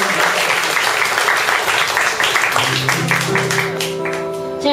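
Audience applause at a live concert by the family act 大大小小, a broad, steady wash of clapping that fills the whole stretch, with a sustained sung or played tone rising beneath it toward the end.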